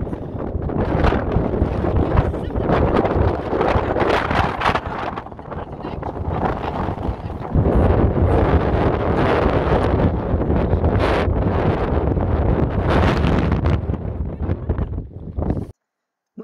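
Strong cold wind roars and buffets the microphone in a continuous, rumbling gust that stays loud throughout before cutting off abruptly.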